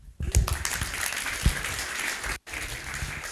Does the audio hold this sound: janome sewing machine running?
no